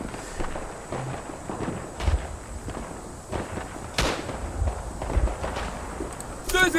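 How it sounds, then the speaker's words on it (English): A six-gun artillery barrage in the World War I shooter Tannenberg, scattered booming shell impacts and distant blasts spread across several seconds amid battlefield noise and gunfire, with a player talking over it. "The 6-gun barrage is pretty good if you get lucky."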